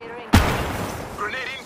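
A single sharp, loud gunshot boom from the Apex Legends video game rings out and decays into a rumbling tail, with faint game sounds after it.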